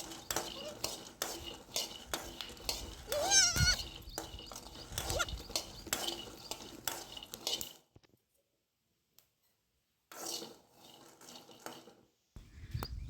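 Roasted peanuts rubbed by hand to loosen their skins, a close dry rustling and crackling in bursts, broken by a short silence before the scratching resumes.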